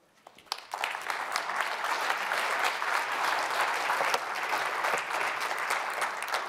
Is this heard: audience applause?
yes